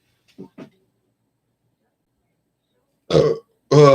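A person burps twice close by after a few faint brief sounds, the second burp longer and more voiced, with silence between.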